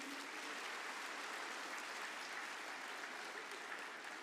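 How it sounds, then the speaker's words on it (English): Audience applause at the Make in Odisha Conclave 2022, an even, continuous roar of clapping from a large hall, heard at a distance and held at a steady level throughout. "Can we have a round of applause, please?"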